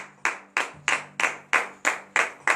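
A church congregation at a morning prayer service in Benin claps in a steady rhythm, eight crisp, evenly spaced claps close up with no talking.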